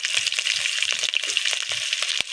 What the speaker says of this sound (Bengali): তেলগুলো আমি তেলের সঙ্গে, সর্ষের তেলের সঙ্গে ভালোভাবে 1 মিনিট মতো নাড়িয়ে নিয়েছি